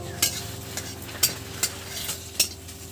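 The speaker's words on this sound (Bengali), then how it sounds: "এই ঘিয়ের মধ্যে আমি একটা তেজপাতা আমি দিয়ে দিচ্ছি" A bay leaf sizzles in hot ghee in a pan being prepared for semolina milk pudding, giving a soft steady frying hiss broken by several sharp clicks of a spoon or spatula against the pan.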